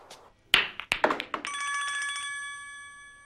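Telephone ringing in a Marathi film scene: a few sharp knocks and taps come first, then a loud, sustained electronic ring that lasts about a second and fades out.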